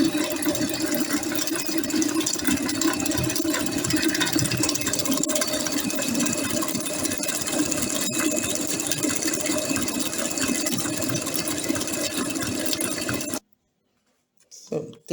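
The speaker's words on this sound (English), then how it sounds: "And I'm going to whisk." An electric mixer whisks Swiss meringue buttercream after vanilla is added, giving a steady, continuous motor whir with a gritty churning texture that runs evenly, then cuts off abruptly near the end.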